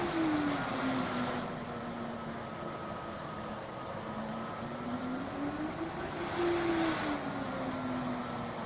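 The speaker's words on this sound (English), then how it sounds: "Or you can hear the engines." A steady jet engine drone from a flight simulator game plays throughout, a continuous hum with a high whine and a tone that slowly rises and falls in pitch, moderately quiet with no talking.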